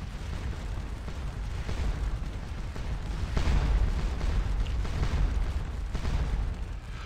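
Rumbling Napoleonic artillery cannon fire in the Waterloo battle game Scourge of War, with repeated deep booms rolling over a steady battlefield din, loudest in the middle stretch.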